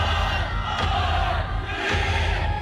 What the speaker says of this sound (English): In Paris, France, crowds packed the Champs-Élysées for celebrations at the Arc de Triomphe